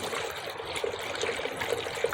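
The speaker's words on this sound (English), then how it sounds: "So as I pour coolant in, it's starting to come out right there." Coolant poured into a car's cooling system at a failing thermostat housing, a continuous close trickling pour of liquid with no talk.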